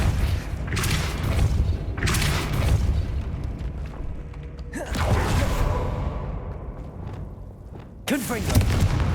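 Booming Depulso spell blasts in Hogwarts Legacy, several loud bursts with whooshing tails at intervals, mixed with game ambience and a spoken incantation.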